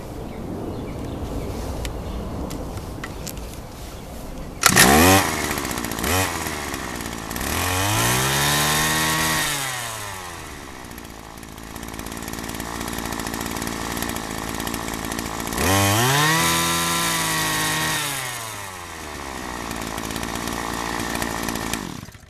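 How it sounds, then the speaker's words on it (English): A small two-stroke engine with a centrifugal clutch starts loudly, then revs up and drops back to idle twice in slow swells, buzzing close and alone with no talk. "So it runs and it idles correctly because the clutch releases and the head stops turning."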